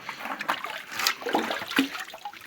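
Water poured into a container while preparing a drink for a newborn Simmental bull calf, a continuous trickling, splashing pour heard close up for a couple of seconds.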